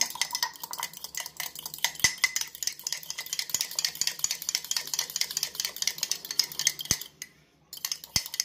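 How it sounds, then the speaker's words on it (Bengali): A whisk or spoon beats egg and flour batter in a bowl, making quick steady clicking scrapes against the sides, with a few sharp knocks and a short pause near the end. "তো এটাকে ভালো করে ফেটে নেব"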